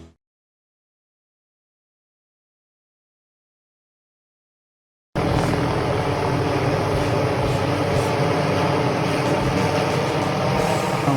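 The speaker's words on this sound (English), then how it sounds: "That lets you know the saw's throttled up." Almost five seconds of silence give way to a loud, steady mechanical roar from a helicopter-slung tree-trimming saw at full throttle, running continuously with the deep drone of the helicopter.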